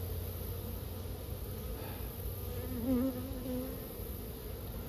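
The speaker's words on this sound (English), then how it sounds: "now I can just shake the rest of the bees in" Honey bees buzz continuously during a beehive removal from brickwork, a steady faint swarm drone with one brief closer bee passing midway.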